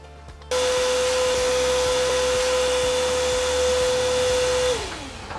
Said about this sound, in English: I'll go get a vacuum.